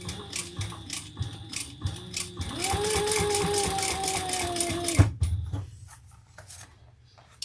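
A sewing machine stitches fabric, catching a pocket, opening with short ratcheting bursts before a steady whirring run of a couple of seconds that ends abruptly with a clunk, then quieter handling sounds.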